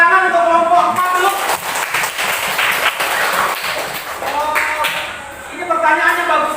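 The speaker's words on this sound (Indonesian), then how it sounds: "Tepuk tangan untuk kelompok 4 dulu." Classroom applause for a student group: scattered clapping from a room of students rises and fades, with voices talking over it at the start and end.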